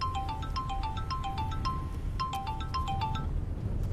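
A phone ringtone in a Hindi-dubbed action thriller film plays a repeating electronic melody of short bright tones in two quick phrases, loud and clear over a low background rumble.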